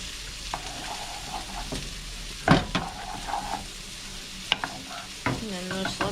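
Steak fajitas with cumin frying in a pan, a continuous soft sizzle broken by a few sharp clanks and scrapes of stirring, close and alone.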